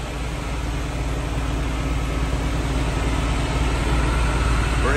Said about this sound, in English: Nice Beverly Hills fire engine.